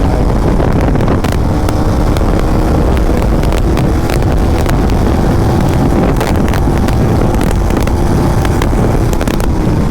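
A KTM Duke 390 gen 3 motorcycle riding at speed in fourth gear, a loud continuous engine roar buried in heavy wind buffeting on the microphone.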